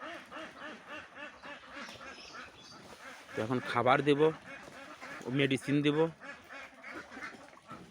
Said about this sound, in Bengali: দেখেন আমার হাঁস সব পুকুরে চলে গেছে